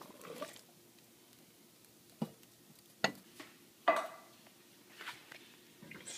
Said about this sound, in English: Stir all this up.